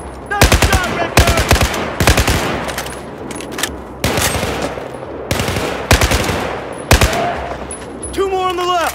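Machine gun fire in Battlefield 4 on PS4, loud rapid bursts repeating across the clip with short pauses between volleys, close and dominant.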